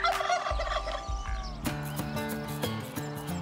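Several turkeys gobble in quick, rattling bursts, one after another, fairly close and clear over a quiet background.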